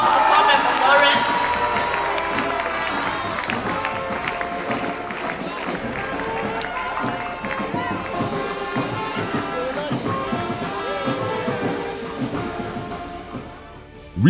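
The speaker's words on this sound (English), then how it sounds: "Please, a round of applause to co-member Lawrence." Applause at a ceremony honouring a co-member, a dense, sustained clatter of many hands mixed with crowd noise, steady and fairly loud before fading out near the end.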